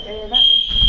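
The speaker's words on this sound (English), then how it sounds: "the fire alarm went off at 4:30 in the morning" A fire alarm goes off in the early morning, a loud, piercing steady electronic tone close by, with people talking over it.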